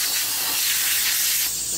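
Canned compressed air hisses in a steady, close blast as it blows surface dust off mineral crystals, with a brighter burst near the end and no talking.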